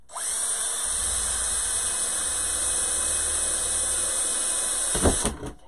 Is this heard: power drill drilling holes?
yes